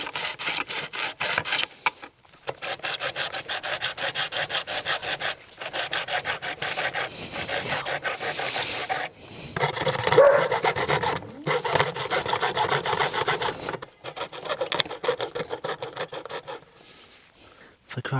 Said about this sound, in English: Just what I'm getting with the hacksaw is good.